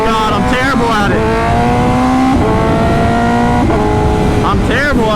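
A 2025 BMW S1000RR motorcycle launches hard with launch control, its engine screaming up through rising revs with sharp gear-change drops, loud and close from the rider's position.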